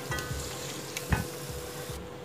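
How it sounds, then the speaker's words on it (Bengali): Chicken stir-fried in a pan for spicy kasha chicken, with no water added yet, giving a continuous sizzle with scraping strokes and one louder knock of the spatula, close up and without speech. "এইখানে এইভাবেই কষাচ্ছি।"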